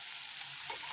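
Vegetables go into a hot pan for a spinach and peanut dish, giving a steady, close broadband sizzle with faint stirring scrapes near the end.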